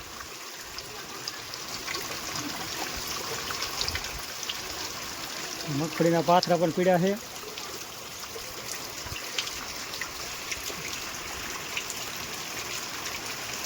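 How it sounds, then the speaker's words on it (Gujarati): Steady unseasonal rain patters and hisses over groundnut fields in Morbi district, Gujarat, with a brief burst of speech partway through over the constant wash. "આવી રીતનો વરસાદ ચાલુ છે"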